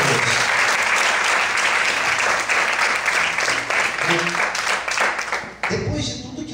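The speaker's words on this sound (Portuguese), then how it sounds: "Você pode aplaudir o Senhor nessa noite?" Church congregation applauding the Lord during an evening service, dense sustained clapping that fills the room loudly and evenly, then drops off sharply near the end as the applause dies away.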